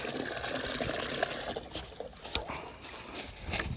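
Fresh water is poured for the dogs, giving a soft, faint trickle and splash with a few small clicks close by. No talk is heard during the pour.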